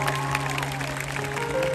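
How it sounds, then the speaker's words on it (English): Audience applause fills a concert crowd at a Valentine's concert at Expo 2020 Dubai, a steady wash of clapping that runs through the short moment with tonal sound from the stage beneath it. "give him a round of applause"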